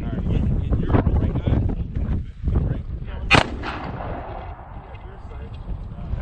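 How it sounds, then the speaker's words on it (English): A handgun fires at an outdoor shooting range during a concealed carry course, with a sharp close report partway through, amid wind buffeting and people speaking. "Just let the gun go off."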